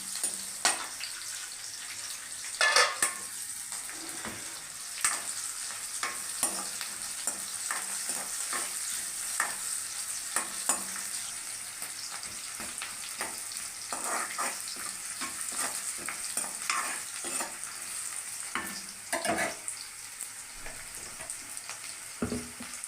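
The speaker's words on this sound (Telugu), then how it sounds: "ఉల్లిపాయలు బాగా ఎర్రగా అవుతున్నాయి." Onions frying until reddish-brown in a pan with oil for a ridge gourd and egg curry, giving a continuous crackling sizzle under frequent scraping stirs and clinks at close range, with no voices.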